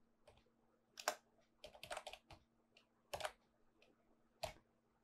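Keys on a computer keyboard are typed in a few scattered bursts of close, crisp clicks with short pauses between, while entering a domain name during an Apache SSL setup on Debian; no one talks.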